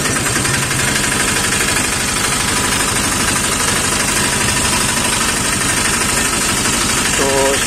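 A rope-start engine on a nozzle and plunger water pump runs steadily and loudly close by, with a dense mechanical chug throughout.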